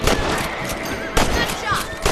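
Sharp gunshots crack from the Red Dead Redemption video game during a rabbit hunt, with several irregularly spaced shots and some background game sound between them.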